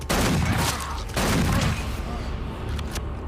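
Gunfire from a chaotic shootout in the fantasy cop film Bright, dense and loud, with bursts and booms layered over music and effects across the whole stretch.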